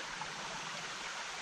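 Shallow forest creek flowing over stones, a steady close rushing and babbling wash of water with no voices over it.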